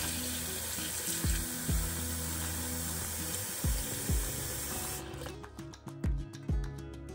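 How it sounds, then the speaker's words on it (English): Soaked beans being rinsed under running kitchen tap water, a continuous splashing stream with several heavier glugs and sloshes as the water is poured away, then the flow cuts off leaving intermittent pours and drips. "you're going to rinse and pour away the water before cooking"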